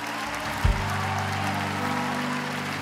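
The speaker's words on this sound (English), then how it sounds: "let's give these people a round of applause" A congregation at a Hillsong Church prayer night applauds in a steady wash of clapping, held at an even level over sustained low music tones from the worship band.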